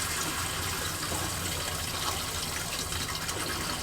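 Hot water runs steadily from a camper van tap fed by an Espar hydronic heater, a continuous broadband gush of flowing water close by with no talking.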